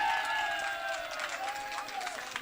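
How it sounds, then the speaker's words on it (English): A crowd at a KBC World Radio Day evening event claps and cheers in a continuous, lively wash, with a sustained high tone gliding across the top of the noise. "A round of applause,"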